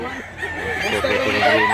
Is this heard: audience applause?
no